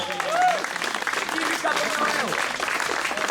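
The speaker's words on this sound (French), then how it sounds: "Vos applaudissements pour Lucas Bonneau." Outdoor crowd applauding a U17 cyclist at a road race podium ceremony, a dense continuous patter of clapping, with cheers and voices mixed in over the whole stretch.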